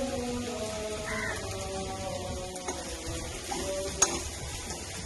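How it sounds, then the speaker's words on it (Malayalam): Curry leaves, ginger and garlic frying in oil for a cauliflower tomato masala, a soft steady sizzle with faint stirring and a single sharp clink near the end; a bird calls faintly in the background. "ഇതിലേക്ക് ഇത്തിരി കറിവേപ്പില ഇഞ്ചിയും വെളുത്തുള്ളി ഇട്ടത്"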